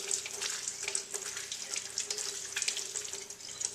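Tap water runs steadily into a sink while a multi-well lab plate is rinsed under it, a continuous hissing splash with small irregular spatters and no voices.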